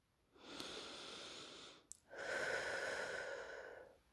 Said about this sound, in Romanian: respira adânc de trei ori